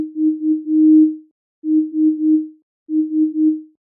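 A pure, sine-like synth tone with pitch modulation in Ableton Live plays three phrases of three short notes each, every note swelling in softly as if faded in, separated by brief silences.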